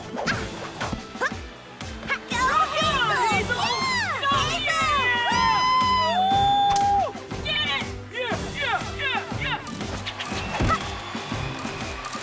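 Cartoon hamsters cheering at a gymnastics competition, a lively chorus of squeaky, high-pitched shouts and whoops that rise and fall over background music, with brief lulls between bursts.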